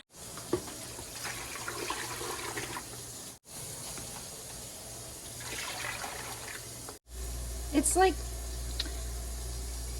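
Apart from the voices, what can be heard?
water pouring into pressure canner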